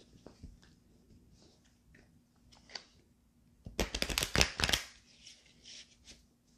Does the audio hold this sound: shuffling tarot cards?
yes